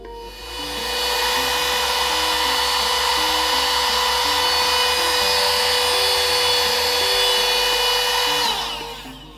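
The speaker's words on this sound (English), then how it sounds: "So we're going to test this vacuum cleaner to see if it can get the dust out of there" A small handheld vacuum cleaner whirs loudly and continuously while sucking dust off a LEGO model, a high whining motor tone holding steady for about eight seconds before cutting off.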